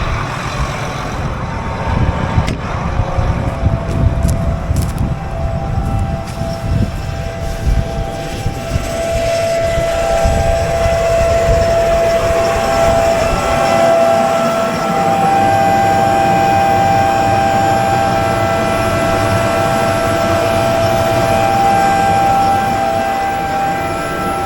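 A soybean planter's seed blower running steadily in a field, a loud continuous whir with a sustained tonal whine and engine drone throughout, with no talk.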